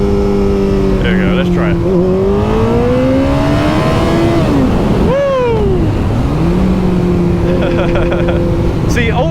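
A Kawasaki ZZR1400 / ZX-14R motorcycle engine is held at full throttle on a straight, a loud close roar rising in pitch through the gears with brief shift dips, and wind rush underneath. A rider says a few words.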